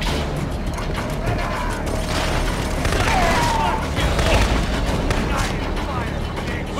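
Gunfire crackles through a firefight in the sci-fi shooter Killzone 2, a dense continuous barrage of shots, booms and clattering mechanisms with shouting voices mixed in.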